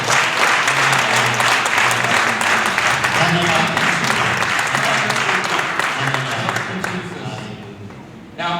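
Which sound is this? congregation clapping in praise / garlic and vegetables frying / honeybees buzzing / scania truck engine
congregation clapping in praise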